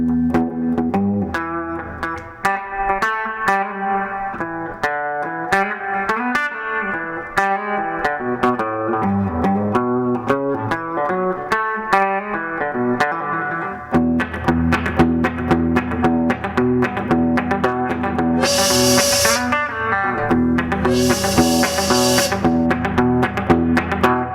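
Electric guitar on the back pickup played through a reissue Fender Deluxe Reverb tube amp with the reverb turned up, strummed chords and picked notes ringing steadily and loud with a lush reverb tail, no talking.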